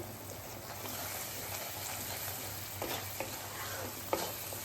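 Masala being stirred and roasted in a pan for dal fry, a steady soft sizzle under scraping spoon strokes with a few sharper clinks, no talking.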